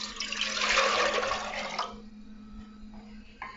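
Tap water runs into a cooking pot for rice pudding with cinnamon, a loud splashing pour that fades out partway through and leaves a quieter hum.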